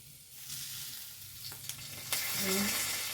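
Fresh curry leaves hit hot oil in a pan while an okra masala dish is cooked, a loud crackling sizzle building after the leaves drop in, close and alone.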